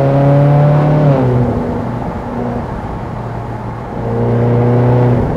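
A Ferrari California 30 V8 revs hard on a test drive, its engine note climbing, then easing off as the gear drops before pulling strongly again; loud, close and continuous, with no voices.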